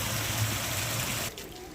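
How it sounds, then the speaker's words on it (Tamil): Broad, steady rushing of heavy floodwater flowing like a river, loud and continuous, easing slightly near the end. "அப்படியே ஒரு ஆறு மாதிரியே ஓடுது பாருங்கள்"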